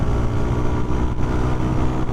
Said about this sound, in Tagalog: maririnig nyo naman yung tunog ng motor ko pagka tayo medyo nag-high RPM tayo